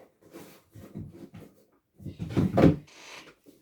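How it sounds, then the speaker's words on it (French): A drawer slides open and shut as a utility cutter in its pouch is put away, giving several short wooden scrapes and knocks close by, with the loudest bump near the end. "on remet le cutter dans la pochette dans le tiroir."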